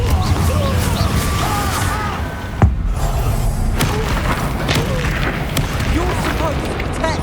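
Spell explosions from the Confringo fire spell boom through a Hogwarts Legacy battle, with one sharp blast standing out over a dense, constant roar of combat noise and shouting voices.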